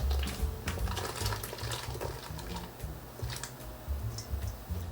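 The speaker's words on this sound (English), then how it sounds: "Now bring the water to boil, add 1 spoon of salt, 1 tablespoon, and then all the potato in." Salt and potato pieces going into a pot of boiling water, with close bubbling, splashing and low rumbling plus a few light clinks and ticks, fairly quiet and steady.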